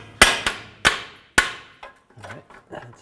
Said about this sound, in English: Just going to use a pry bar and tap it with a hammer.